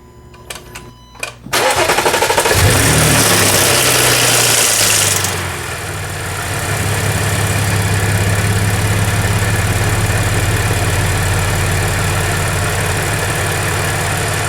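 A supercharged Audi 3.0T V6 from a C7 or B8 model cranks over and catches from a cold start. It holds a loud, steady idle with a faint rattle under the running engine.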